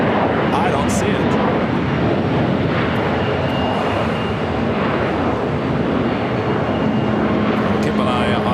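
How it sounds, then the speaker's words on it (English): An American Airlines Airbus A321neo rolls down runway 25 right at LAX, its loud, sustained engine roar steady throughout with faint tonal whines. "American Airlines Flight 738 heading to Philadelphia. A321 Neo now rolling down 25 right."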